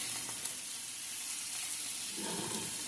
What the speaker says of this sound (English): in here we're going to put our tomato juice that we canned